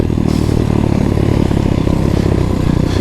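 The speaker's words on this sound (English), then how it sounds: "Just love hearing the exhaust, man." X-Pro Titan dirt bike exhaust at a steady loud, close rev, a continuous buzzing engine drone with some rattling clatter throughout, no talk.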